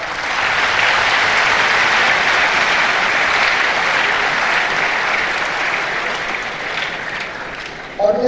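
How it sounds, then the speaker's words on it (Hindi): A large audience claps together for students at a university convocation ceremony, loud sustained applause filling the hall for several seconds before tapering slightly. "तो इन बच्चों के लिए ताली बजाएं"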